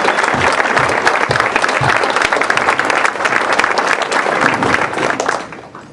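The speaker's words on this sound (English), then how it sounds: "Can I get everybody who's involved in the organizing of Democrat Days to stand up so we can give you all a round of applause?" A loud round of applause for the organizers at a Democrat Days political gathering in Hannibal, Missouri, dense crowd clapping holding steady before tapering off at the end.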